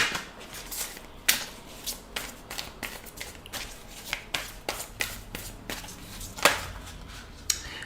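Tarot cards shuffled by hand, a continuous run of soft riffling flicks and sharp taps at close range, uneven in rhythm with a few louder slaps, no voices.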